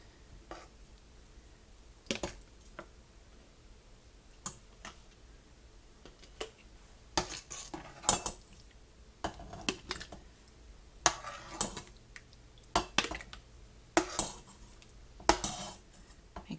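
Chunks of chuck roast are loaded into glass canning jars by hand, giving sparse, sharp clinks and taps of glass and utensils against a quiet background, spaced irregularly and close by.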